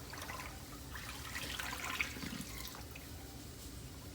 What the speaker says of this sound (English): Just take all this water out.